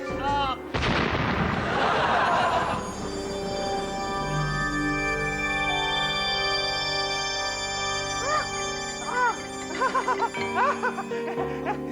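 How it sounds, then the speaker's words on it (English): Explosion sound effect from a comedy TV show: a sharp burst with rumbling debris and ringing that fades over several seconds, while tonal music plays underneath. "You have exploded."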